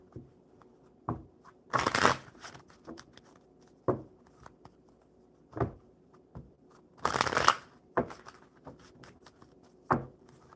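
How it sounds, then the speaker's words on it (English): A deck of cards is shuffled by hand in short bursts: quiet taps and slides broken by two long riffling cascades, close and crisp against a hushed room, with no talking. "I will go ahead and get them shuffled and pull some for me."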